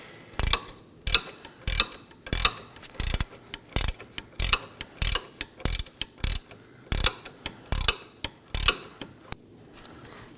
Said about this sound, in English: insert the T40 bit on a ratchet. Now I'll start breaking it loose.